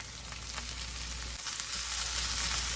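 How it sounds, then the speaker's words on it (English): Potatoes fry in hot oil in a pan, a loud, close, continuous sizzle with faint stirring scrapes, no voices. "let's get these potatoes going. We're going to stir them around and get them fried up."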